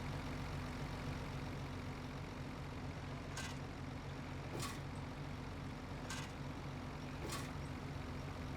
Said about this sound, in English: Turn on harvester.